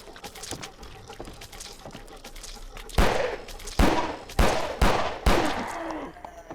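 Gunfire in the horror game 2020 Haunted Demo Disc: five loud, sharp shots spaced roughly half a second apart, each with a short decaying tail, following quieter rustling and footstep-like ambience.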